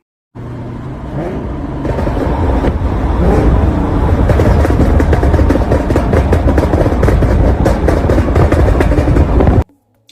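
A Ford Explorer with a Bravo 240 Extreme Burble exhaust tune starts up and revs hard, a loud, close engine roar with rapid crackling pulses, held for several seconds before cutting off abruptly.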